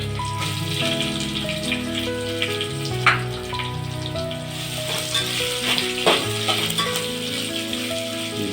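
Chopped onions sizzle and fry steadily in a hot pan for chicken dum biryani, a continuous close crackle with occasional stirring clatters and no talk.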